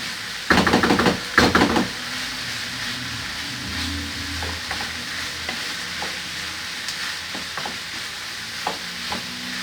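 Tomato paste frying with chicken, carrots and potatoes in a pan, a soft steady sizzle opened by two loud bursts of stirring scrapes, then occasional light utensil knocks.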